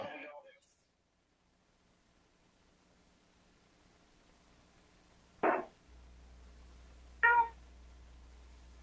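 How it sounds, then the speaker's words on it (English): A cat meows twice, short and fairly clear, with long near-silent gaps between the calls and a faint low hum in the background. "All I heard was a kitty."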